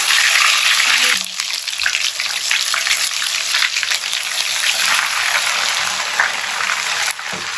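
Turmeric frying and frothing in raw oil for homemade chicken pickle, a loud, continuous close sizzle with a brief clatter early on and another near the end.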